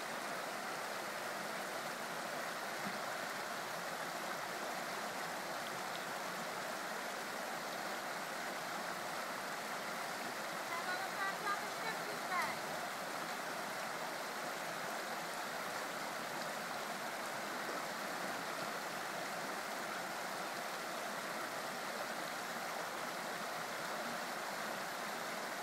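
River water flowing steadily around someone wading across the Arroe in crocs, a continuous broadband rush with no break in level and no voices.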